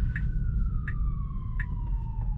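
An ambulance siren wails steadily at a distance, slowly falling in pitch, over the low rumble of a car interior with faint repeated clicks.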